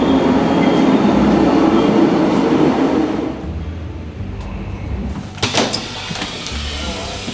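A passenger train rumbles loudly along the rails on a long journey, a broad roar that eases after a few seconds into a quieter rolling sound with a few clicks and clatters.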